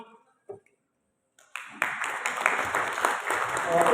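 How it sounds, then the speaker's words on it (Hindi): Audience applause at a stage event in Abbottabad, breaking out after a brief spoken pause and quiet gap, then building into sustained, moderately loud clapping from a crowd that continues to the end. "भरपूर तालियां आपकी।"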